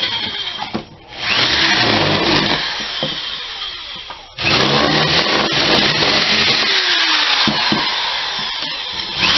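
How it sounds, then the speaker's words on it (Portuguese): A power drill boring a hole in the centre of a workpiece, a loud whining grind that cuts out briefly, resumes and continues steadily, close up with no talking. "vou fazer um furo aqui no centro aqui."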